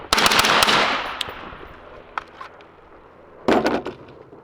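Rifle shots fired through a Surefire suppressor, loud and close: a cluster of sharp cracks at the start, a fainter pop midway, then another burst near the end, each followed by a short decaying echo.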